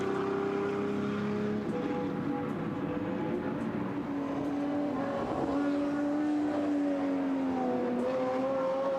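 Group 5 race cars at high speed during a demonstration run at the 74th Members' Meeting, a loud, sustained engine drone with shifting pitch as cars pass, continuous and fairly close.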